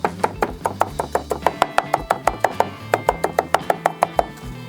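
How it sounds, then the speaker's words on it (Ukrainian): Half a garlic clove chopped finely with a knife on a board while preparing a shashlik marinade: a fast, steady run of about twenty crisp, close taps in even rhythm, with no voices. "Пів часночини. Дрібнемо."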